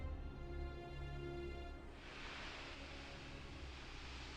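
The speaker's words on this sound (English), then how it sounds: "with a sound like sand pouring over a stone" A soft, steady hiss of sand pouring over stone, a sound effect from the game Hakuoki, rises into a fuller, brighter rush partway through and continues quietly, with no talking.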